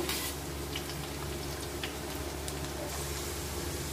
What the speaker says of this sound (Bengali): পেঁয়াজটা একটু লাল লাল করে ভেজে নেব। সেই সঙ্গে গোটা মশলা সব ভেজে নেব।